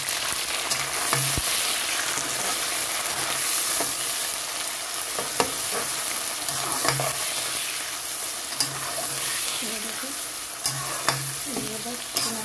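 Onions, green chilies, ginger and garlic fry in a pot for beef pulao, a steady close sizzle running throughout with occasional stirring scrapes and clicks.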